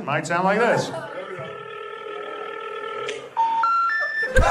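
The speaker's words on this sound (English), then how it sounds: "Phone's been disconnected." A disconnected-phone intercept signal: a loud, close sequence of three rising electronic tones that comes in after a stretch of speech.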